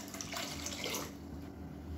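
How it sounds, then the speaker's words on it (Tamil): Water pouring into a cooking pot in a steady stream for about a second, then stopping, leaving a quiet room hush. "கொஞ்சம் தண்ணி சேர்த்துக்கலாம்."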